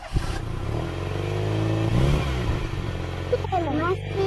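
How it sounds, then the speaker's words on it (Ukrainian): A recorded car engine revs and accelerates, its tones sweeping up and down during a transport sound-guessing game, while a teacher and children talk over and around it. "Так, молодці, машина."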